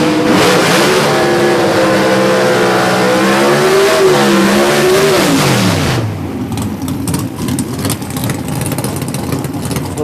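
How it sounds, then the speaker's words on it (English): A gasser drag race car at a drag strip revs hard in a short burnout, a loud, rising engine roar that swells and then drops off sharply, leaving a rougher, lower rumble. "Short of burnout right there for Christopher."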